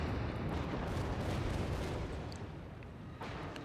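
Heavy naval gunfire rumbles in the World of Warships game during a battleship engagement, a dense, continuous low boom-and-roar sustained throughout, loud and close with no talking.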